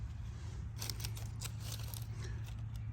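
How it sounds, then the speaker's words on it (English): Pruning shears snip off a tattered hellebore leaf at its base, a few faint quick cuts over a steady low background hum. "You go down to the base right here, and you just cut that off. Cut that leaf off."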